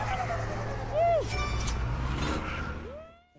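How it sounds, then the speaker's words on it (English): A short game-style sound effect plays as a car breaks through an obstacle wall, rising and falling tonal sweeps and bright chimes over a steady engine drone with speech underneath. "Listen to the sound every time the car makes it through this obstacle."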